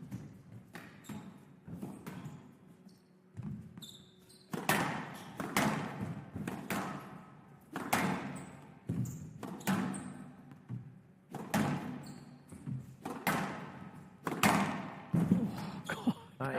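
A professional squash rally between a New Zealand player and an Egyptian player: sharp racket strikes and the ball cracking off the walls in an irregular rhythm, heard alongside court and crowd ambience.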